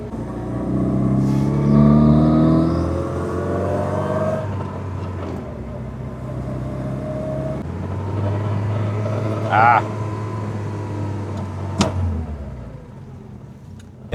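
An old Peugeot 304 barn find with a slightly sticky throttle drives along, its engine droning steadily with a rising rev early on, heard from inside the car throughout.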